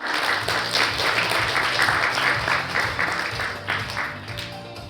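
An audience at a youth smartphone and digital mental health forum in Seoul breaks into sustained applause, a dense steady clapping that holds for several seconds and eases slightly at the end.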